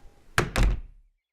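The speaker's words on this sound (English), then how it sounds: "and he closed the door." A door in a room shuts with two quick, solid thunks close together, near and fairly loud, then silence with no voices.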